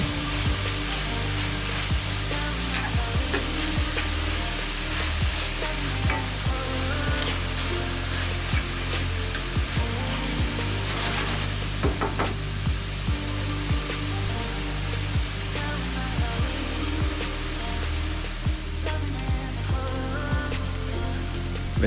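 Onions sautéing in a pan for homemade butter chicken, a steady dense sizzle and crackle with soft popping, continuous and close throughout, no voices.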